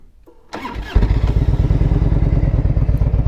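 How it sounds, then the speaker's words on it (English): A fuel-injected Harley-Davidson Evo Road King cranks briefly with a clattering starter, then catches and settles into a loud, steady, lumpy idle close by, with no talk. "Fires right up, as you would hope, being a fuel injected bike, right?"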